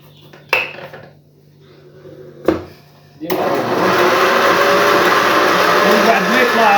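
An electric mixer whips eggs and sugar for a genoise sponge, starting after a couple of sharp clinks of utensils on a bowl, then a loud, steady whirring drone that runs to the end.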